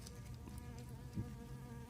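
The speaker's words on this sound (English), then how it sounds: "we have the bees flying around" Bees buzz steadily around strawberry plants in a garden bed, a close continuous drone with no talking.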